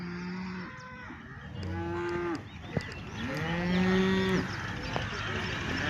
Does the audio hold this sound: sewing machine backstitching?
no